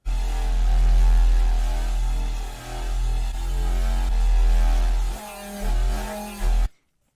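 Heavy dubstep synth patch built in Serum, a thick growling bass with a modulated filter cutoff sweeping and wobbling, loud and sustained before stopping suddenly near the end.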